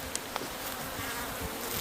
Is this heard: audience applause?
no